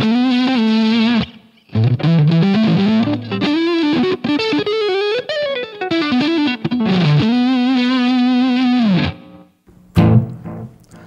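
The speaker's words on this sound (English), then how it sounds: "as soon as I don't want to hear it, I just jump right back into my fuzz sound" Electric guitar played through a fuzz tone on a Line 6 Helix, thick distorted sustained notes bending and sliding in a melodic line, loud and upfront, ending in a short burst of noisy strumming.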